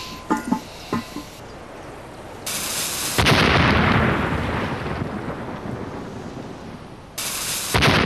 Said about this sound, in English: This early sledge-mounted cannon fires a 16-pound ball.